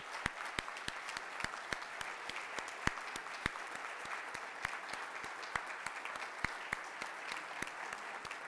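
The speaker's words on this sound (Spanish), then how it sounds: "Vamos a darle un aplauso de pie a Juan." A standing ovation at a book presentation event, with scattered, fairly distant applause where individual sharp claps stand out over a soft crowd background, continuing steadily without speech.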